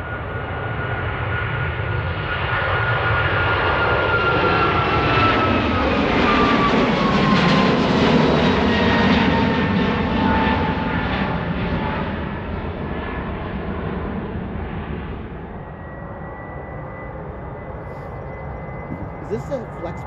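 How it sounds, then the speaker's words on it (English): Jet engines of an Airbus A321 airliner at Ted Stevens Anchorage International Airport, a loud sustained roar that swells toward the middle and then eases into a steady hum, with voices talking nearby. "This is an Airbus. A321?"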